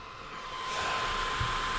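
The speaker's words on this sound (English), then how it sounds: "It's a one-of-a-kind controller that has a built-in fan for your dirty, sweaty hands" Built-in cooling fan of a Nyko Airflow EX game controller held up close: a steady airy whir that swells slightly as it spins up, then holds a constant hiss with a faint tonal hum, brief and unaccompanied by speech.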